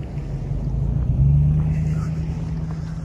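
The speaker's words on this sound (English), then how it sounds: "The traffic is pretty light right now" Light traffic rolls along a snowy street in downtown Manchester, New Hampshire, a steady low engine rumble swelling as a vehicle passes nearby, heard continuously without talk.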